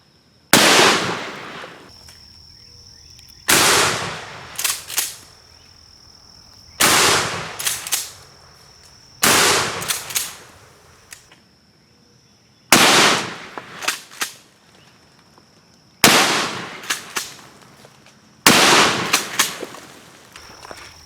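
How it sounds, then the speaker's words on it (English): Seven loud gunshots from .45, .357 Magnum and .44 Magnum handguns fired at plates made from recycled milk jugs, each sharp blast followed by a brief echo, spaced a few seconds apart outdoors. "Extra shots from a 45 and a 357 Magnum."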